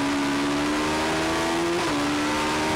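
A race car at Kirkistown circuit drives hard toward the finish line, its engine a loud, steady drone with a slight pitch drop as it changes gear.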